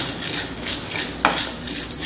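Roasted gram dal, about half a cup, being dry-roasted over a slow flame in a pan, giving a steady soft rustle with light scraping clinks from a utensil against the metal.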